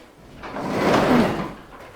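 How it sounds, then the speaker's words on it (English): Automatic door on a 1929 Ford Model A, a soft sliding whoosh that swells smoothly to a peak and fades within about two seconds, heard close and alone. "This is my automatic door."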